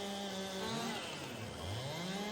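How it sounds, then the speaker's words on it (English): Steel chainsaw with a fresh chain cutting through big logs in Farming Simulator 22, a continuous droning engine whine that rises and falls in pitch as it bites into the wood, steady and fairly loud throughout. "Using the steel chainsaw here, I just put a new chain on it, so it is cutting like nothing here"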